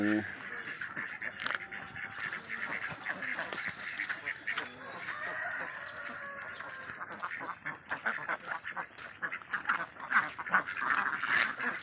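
Ducks quack repeatedly in a busy, noisy flock in a duck pen during morning egg collection, calls overlapping and fairly close, with someone talking over them at times.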